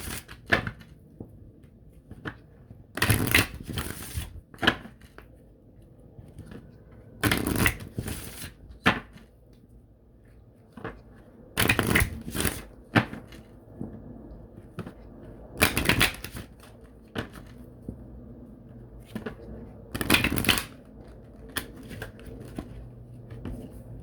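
Tarot reading cards get shuffled in bursts: several loud, riffling runs of card flicks close by, separated by quieter stretches of handling and soft background noise.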